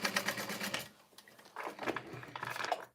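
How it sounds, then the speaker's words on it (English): Sewing machine top stitching a slip pocket, quick rattling needle bursts in two runs separated by a brief pause, close and fairly quiet. "I have right sides together to create that slip pocket, and I'll top stitch it"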